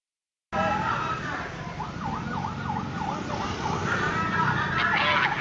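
An ambulance siren wails in a fast rising-and-falling yelp at the scene of a highway accident, loud and fairly close over engine and road rumble, with a voice speaking faintly underneath.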